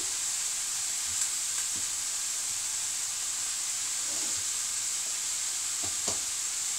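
Sliced mushrooms dropped into a hot pan for a jambalaya give a steady, even sizzle and hiss, with a few soft stirring taps standing out now and then.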